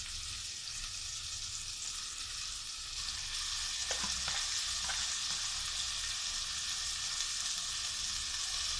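Finely sliced beef and mixed vegetables fry in a pan with a steady, close sizzle throughout, a brief scrape and clatter of stirring near the middle.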